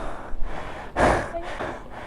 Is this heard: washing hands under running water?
no